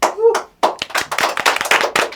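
Hand clapping on an entertainment talk show set: a short burst of claps, a brief pause, then a run of sharp, close, uneven claps that continues to the end.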